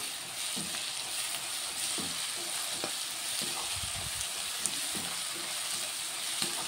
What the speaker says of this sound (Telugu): ఇవన్నీ కూడా మళ్ళీ నూనె ఆయిల్ ఫ్రై అవ్వాలి